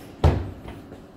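A hotel room door in the New World Hotel Petaling Jaya closes with a single dull thud, followed by a faint short rattle in an otherwise quiet room.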